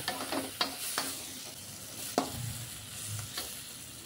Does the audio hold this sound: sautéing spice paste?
yes